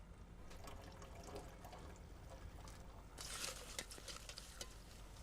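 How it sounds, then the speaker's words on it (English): Cold acetone is poured slowly into a container, a soft continuous bubbling trickle that swells into a brighter, louder splashing pour partway through, with no talking. "Just pour it in here."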